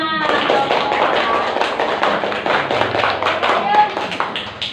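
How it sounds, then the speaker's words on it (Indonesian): Schoolchildren clapping for a group in a classroom, a quick close run of claps and taps under children's chatter and a teacher's voice. "tepuk tangan buat kelompok 5"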